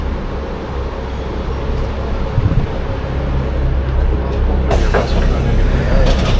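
A free public city bus in Belgrade rumbles along from inside, with a loud steady engine drone and road noise, plus a brief hiss and clatter near the end.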